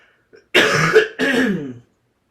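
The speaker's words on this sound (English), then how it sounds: "going to clear my throat before we tune in one more time." A single throat clearing, close and fairly loud, in two rough bursts with a short break between them, then quiet.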